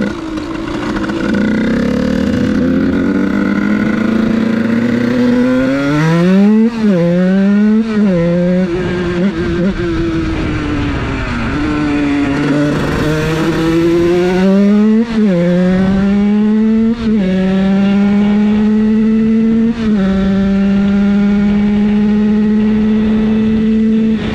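A Beta 86cc Most motorcycle engine buzzes and revs up repeatedly from first gear, its pitch climbing through several gear changes, then holds a steady high drone, loud and close.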